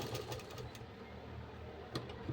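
A sewing machine stitches a seam while a loose kurti is taken in for fitting, giving a faint, rapid, even mechanical whirr with a few louder bursts.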